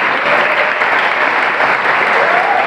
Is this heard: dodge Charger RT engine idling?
no